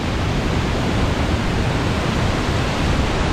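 Bomuru waterfall, the tenth fall in a chain of cascades, a loud unbroken roar of rushing water close by with no other sounds.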